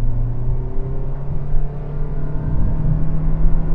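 A Toyota Prius hybrid launches hard from a standstill, its engine and drivetrain giving a steady loud droning rumble with a rising whine that holds throughout, no voices over it.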